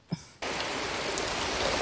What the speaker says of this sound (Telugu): వర్షం చూడండి దంచి కొడుతుంది, మామూలుగా కాదు